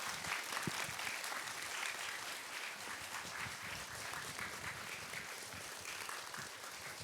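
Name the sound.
audience applause welcoming a lecturer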